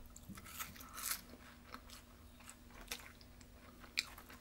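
Arby's curly fries are chewed close to the mic, with soft crunchy bites and moist chewing repeating steadily, faint and with no talking.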